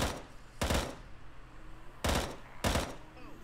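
Four sharp, loud shots from a Colt 1911 pistol in a VRChat zombie survival game, fired in two spaced pairs with quiet background between them.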